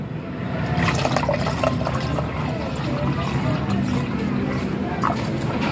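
About 1.5 liters of tap water pours steadily into a container for making ice candy, a continuous close rushing splash that lasts throughout without pause.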